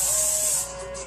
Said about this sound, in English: Just going to keep it all locked in with a little bit of hairspray.